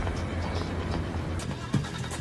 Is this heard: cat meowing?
no